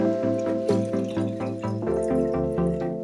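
Water pours into a container of beet, ginger and carrot juice, a tonal, gurgling stream with rhythmic glugging pulses whose pitch shifts as the vessel fills.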